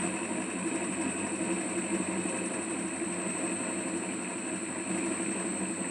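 A PTO generator prototype motor runs steadily with RPM increasing, giving a constant close mechanical hum and whine with an even vibrating buzz throughout and no talk.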